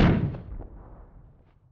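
One loud shot fires in the video game Hogs of War, a sharp close blast that rolls off into a long, fading echoing tail.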